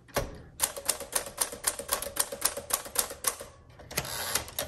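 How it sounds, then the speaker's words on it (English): Keystrokes on a 1952 Smith Corona Sterling portable typewriter, a brisk run of about a dozen sharp metallic clacks in an even rhythm, close and clear, with a short pause and a final mechanical rattle. "this is a very good typewriter"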